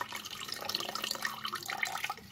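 White vinegar poured over raw chicken gives a soft, continuous splashing trickle of liquid, fairly faint and close, without pause.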